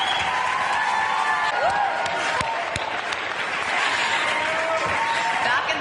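Crowd cheering and applauding at a Trump pride event, a dense, steady wash of noise that carries on throughout without a break.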